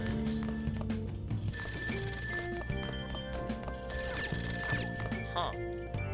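A telephone rings downstairs in the video game Persona 5 Royal, giving repeated bright electronic trills over steady game music.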